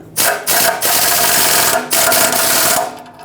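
A power tool tightens a new 14 mm mounting nut on the exhaust manifold of a 2012–2017 Toyota Camry. It runs as a loud, close, rattling buzz in four bursts separated by short pauses, with no talking.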